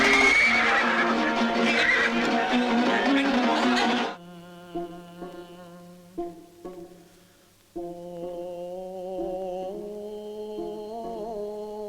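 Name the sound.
horse neighing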